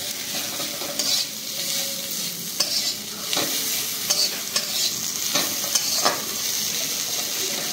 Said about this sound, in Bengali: ভালো করে নেড়ে নেওয়া হবে, মশলাগুলোর সাথে টমেটোটা যাতে ভালো করে মিশে যায়